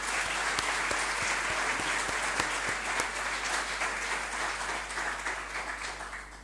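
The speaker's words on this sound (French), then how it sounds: "je voudrais vous applaudir très fort" Sustained applause from an audience at the launch of a chair of Phoenician studies, a steady wash of many hands clapping that slowly fades toward the end, with a low steady hum underneath.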